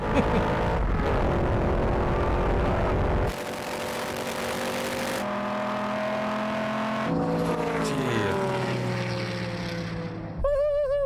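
An American muscle car launches in a drag race with a loud roaring engine that climbs through the revs, shifts, and drops in pitch as it pulls away, with no talking.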